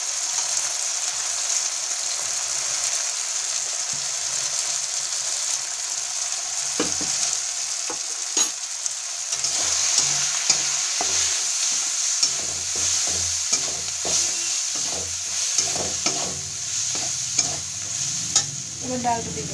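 Sambar masala frying in a pan while it is stirred, a close continuous sizzle with repeated scraping and clinking strokes that grow busier in the second half, no voices.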